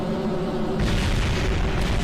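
A rocket stage blows up in Kerbal Space Program, the game's explosion sound landing as a loud, dense rumbling boom that swells after a steady engine drone and keeps roaring to the end.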